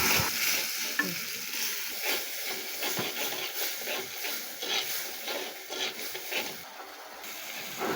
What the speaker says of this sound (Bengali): এগুলো দিয়ে আবার ভালোভাবে নেড়ে চেড়ে নেব।